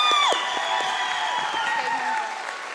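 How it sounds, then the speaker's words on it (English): Audience applause and cheering at a live show, loud and close, with a sustained whistle at the start and whoops and shouts over the clapping. "So big round of applause for her."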